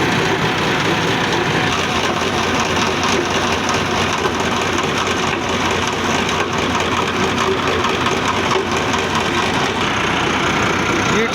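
A 2023 Massey Ferguson 385 tractor running at idle with a 6-inch delivery pipe, a loud, close, steady diesel chug with a dense mechanical clatter that holds unchanged throughout.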